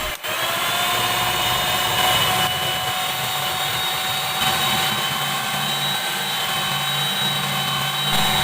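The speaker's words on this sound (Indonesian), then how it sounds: "Kemudian mixer dengan speed terendah dulu ya. Dan berlahan-lahan dinaikkan ke speed yang tertinggi." An electric mixer beats cake batter for a steamed tape sponge cake, whirring loudly and steadily close by, its whine staying constant throughout.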